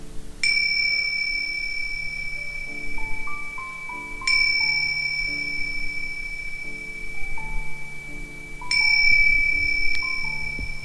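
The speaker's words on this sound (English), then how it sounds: "The bell will ring 3 times." A bell rings three times at even intervals of about four seconds, each strike bright and sustained, over a soft repeating musical background with no talk.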